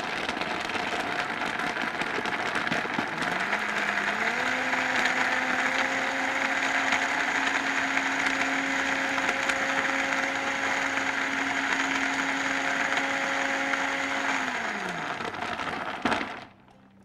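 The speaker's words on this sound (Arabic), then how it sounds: "انا بضربه في الخلاط كويس قوي." An electric blender whirs steadily for about twelve seconds blending almond milk, its motor pitch rising at the start and winding down before a click ends it.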